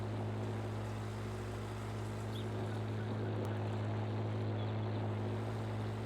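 A tractor in Farming Simulator 19 speeds toward a corn pile, its engine a loud, steady droning hum that holds constant throughout without any talking.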